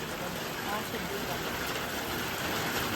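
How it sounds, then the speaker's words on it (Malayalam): Heavy rain pours in a dense, continuous roar that fills the space evenly from start to finish, with no break. "നല്ല മഴയുണ്ട്."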